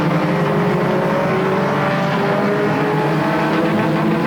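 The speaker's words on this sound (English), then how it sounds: "Rodney Rutherford trying to go around the outside on the 28 of Haley Hill" Pure stock race cars roaring around Flamboro Speedway, a loud dense wall of engine noise from several cars at once, sustained throughout without any voices.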